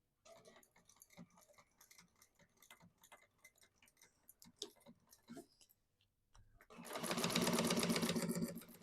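Sewing machine stitching a seam with an accurate seam allowance, soft rapid ticking and clicking at first, then a loud close mechanical whirring burst of fast stitching near the end.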